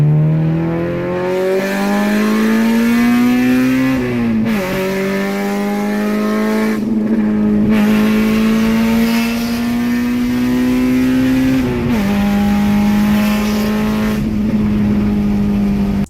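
A Honda VTEC petrol car engine revs hard and loud, pitch climbing repeatedly with brief drops at gear changes near four and twelve seconds, a sustained high-revving run without speech.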